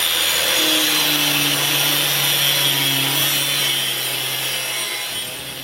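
Steady, continuous sawing by a power tool cuts a slot in steel for a log jack hook, loud and close throughout, then tapering off at the end.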